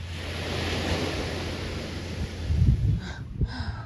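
Ocean waves wash onto a beach in a steady broadband roar, with wind buffeting the microphone and a few louder surges of surf breaking near the end.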